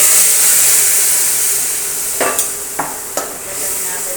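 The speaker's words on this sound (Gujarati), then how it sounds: "રાઈ જીરું કકડી ગયા છે. હવે નાખીશું હિંગ." Mustard seeds and cumin crackle in hot oil as asafoetida is added. A loud, steady hiss of sizzling fills the scene, with a few sharp pops and spoon clinks near the end.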